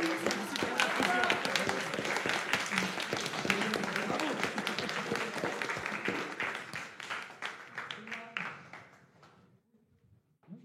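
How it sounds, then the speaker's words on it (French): An audience at a student eloquence contest applauds the semi-finalists with a dense, steady patter of clapping that gradually thins and fades to near silence. "Et on peut les applaudir."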